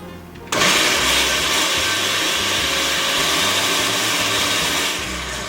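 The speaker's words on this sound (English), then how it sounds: "And then we're just going to blend that." Blender switching on abruptly and whirring loudly while puréeing cannellini beans in their starchy liquid for pasta e fagioli, a steady motor drone that eases off slightly at the end.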